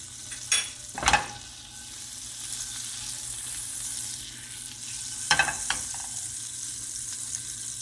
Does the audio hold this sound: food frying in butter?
yes